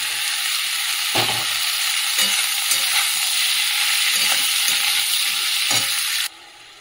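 Bottle gourd pieces sizzle in hot oil tempered with cumin seeds, a dried red chilli and bay leaf. The frying is loud and continuous, with a few sharp stirring knocks, and it cuts off abruptly just before the end.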